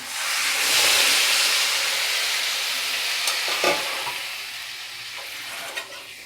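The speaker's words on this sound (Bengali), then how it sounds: "সবজিটা সাঁতলানো হয়ে গেছে, সমস্ত মশলা ভাজা হয়ে গেছে। এবার মাপ করে জল দিচ্ছি।" Water poured into a pan of sautéed vegetables and fried spices for a pumpkin and prawn curry, setting off a loud rushing hiss of steam and sizzle that swells, then slowly fades, with a couple of utensil knocks.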